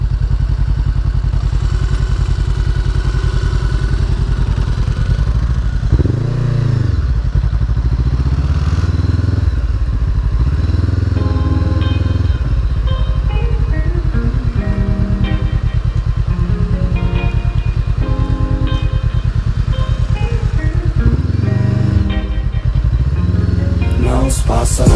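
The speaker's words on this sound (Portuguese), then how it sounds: "Queres tentar entrar lá para dentro com a moto?" A motorcycle is ridden around a scenic viewpoint in Monsanto, Portugal, its engine running loud and close throughout, with throttle surges and rising and falling revs, plus some clatter and bumps along the way.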